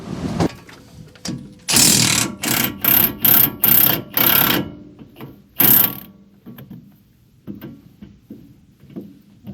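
A wrench ratchets on a 13/16 caliper bracket bolt of a 2017 Ford Expedition during a brake pad and rotor job, giving a burst of loud, rapid clicking strokes in a rhythmic series, then quieter scattered handling noises.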